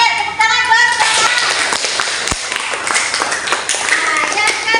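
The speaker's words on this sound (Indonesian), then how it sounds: "tepuk tangan buat mereka" Schoolchildren clap in a classroom, close and loud, with sharp bright claps over children's chatter and a teacher's voice.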